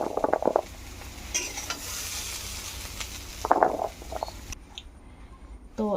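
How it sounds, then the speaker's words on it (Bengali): Chickpeas cooking in a pan are stirred with a few scraping, sizzling strokes, loud bursts near the start and around the middle over a steady low frying hiss, with quieter stretches between. "এর মাঝে দু তিনটা নাড়াচাড়া দিয়ে দিচ্ছি"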